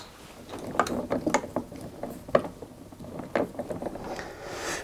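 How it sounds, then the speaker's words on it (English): A screw is undone from the drum support wheel of a tumble dryer, giving a string of close, sharp ratcheting clicks and small metallic knocks in irregular bursts over a quiet background. "simply undo the screw that holds them in position"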